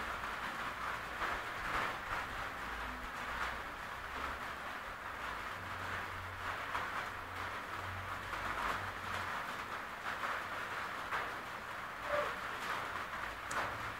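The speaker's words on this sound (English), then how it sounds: "If you hear that noise in the background, it's rain." Steady rain hisses continuously throughout, a dense wash of noise with tiny crackling ticks, no voices and no breaks.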